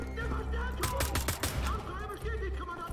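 Gunfire in the video game Wolfenstein: The Old Blood, a cluster of several sharp shots around the middle of the stretch, mixed into game sounds and background talk.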